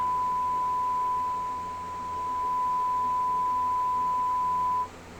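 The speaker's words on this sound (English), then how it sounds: "I'd play those loud beeps anywhere" A single steady electronic tone sounds continuously for about five seconds over a faint hum, then cuts off abruptly.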